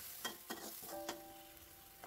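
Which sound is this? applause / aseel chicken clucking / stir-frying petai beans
stir-frying petai beans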